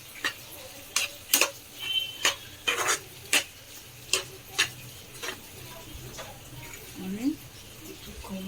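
Maharashtrian bhogi vegetable curry stirred and sautéed in a pan with salt: a series of sharp spoon clicks and scrapes against the metal, spaced irregularly and fairly close, with no other sound.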